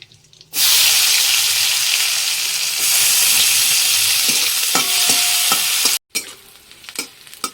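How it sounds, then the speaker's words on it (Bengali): Chopped onion hits hot oil in a kadai with a loud, steady sizzle and hiss right up close, then settles into quieter crackling with a few stirring clinks near the end. "আমি এবার কড়ার ভেতরে ছেড়ে দেবো কিছুটা পেঁয়াজ"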